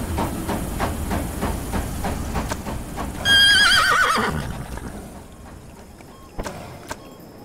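A horse in a Roblox Wild West game gives a loud, close whinny midway, after a run of rhythmic hoofbeats over a hissing steam train, then the scene quiets to a few faint knocks.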